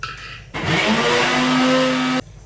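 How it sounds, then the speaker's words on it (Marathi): A kitchen mixer grinder whirs loudly as it grinds onion and fresh coconut into a paste, a steady motorized roar that starts abruptly, holds for about two seconds and cuts off sharply. "आणि हे आता मी मिक्सरला लावून घेते"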